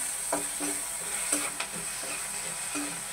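Masala macaroni pasta stirred in a pan with a spoon, a gentle sizzle under repeated scraping strokes at a steady rhythm, close and moderately loud.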